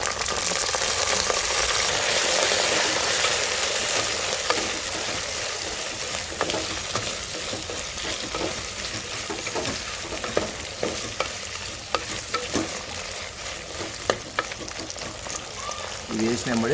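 Nalleru leaves are fried and stirred in hot oil, with a dense, steady sizzle and crackle, frequent scraping strokes of the stirring utensil, and a few louder clacks against the pan.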